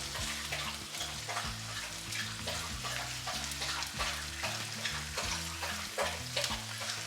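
Eggs with busted yolks sizzle and crackle steadily in a hot frying pan while being flipped, a continuous close frying hiss over low background hum and music-like tones, with no talking.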